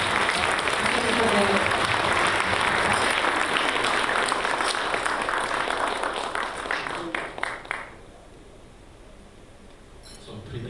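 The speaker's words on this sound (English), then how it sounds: "please give a big round of applause" A large audience at a corporate customer appreciation event in Thailand gives sustained, loud applause. It thins and fades toward the end, leaving quieter room noise with faint voices.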